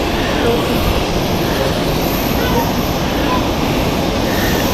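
A Swiss Boeing 777 airliner at Zurich Airport gives off a loud, steady jet-engine roar that fills the whole stretch without pause.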